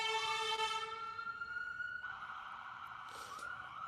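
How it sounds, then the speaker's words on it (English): A wailing siren rises and falls in the distance, steady beneath a faint background hum, with no voices. "I'm sure you guys can hear the sirens in the back."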